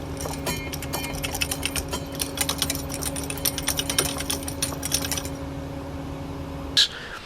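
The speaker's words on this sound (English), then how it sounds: "It just made that horrible kind of like rattling noise you're hearing of the gear shifter hitting against something," A broken gear shifter rattles against the gearbox of a moving car, producing rapid irregular metallic clicks over a steady engine hum for about five seconds, then fading, with one sharp knock near the end.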